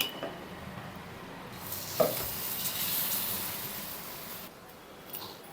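Dosa batter of a high-protein recipe hitting a hot pan, giving a steady soft sizzle and hiss that swells and then eases, with a faint clink partway through.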